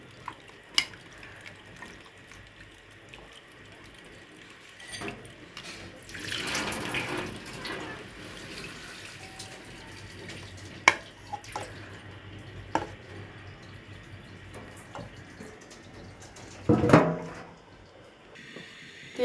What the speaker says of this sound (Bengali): এবার ভালো করে ধুয়ে নিচ্ছি।